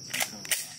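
A Glock pistol fires two quick, sharp pops about a third of a second apart, each short and crackly.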